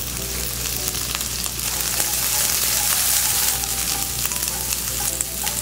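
Minced garlic, ginger, sliced chili and chopped scallion stir-fry in a hot wok, making a loud, steady, close sizzle with a hissing crackle that runs without a break and with no voices.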